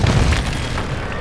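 A stun grenade goes off in Call of Duty Warzone 3.0, a dense low boom that swells at once and holds as a steady rumble for over a second, loud and close with no talk over it.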